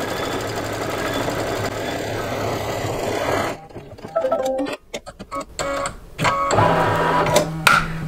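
A single-needle embroidery machine stitches with a rapid mechanical whir that runs steadily, then breaks into choppy stops and starts with clicks and thumps.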